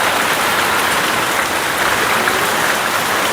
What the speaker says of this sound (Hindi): बारिश शुरू हो गई है और इतनी ज़ोर से बारिश है